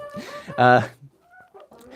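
A rooster named Big Houdini clucks in a short loud burst amid a bird flock at feeding time, with softer fowl calls and a voice nearby.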